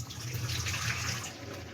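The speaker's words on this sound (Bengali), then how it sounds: "এবার আমি দিয়ে দিচ্ছি তেঁতুলের জল।" Tamarind water poured into a pot of sambar dal with boiled vegetables makes a steady, close, continuous splashing gush that tapers slightly toward the end, with no voices.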